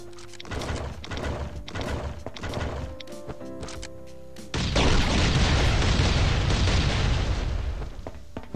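A barrel blows up during a base raid in a video game: a few dull thumps come first, then a loud roaring blast that rumbles on for several seconds.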